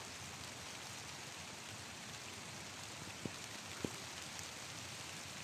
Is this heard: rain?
yes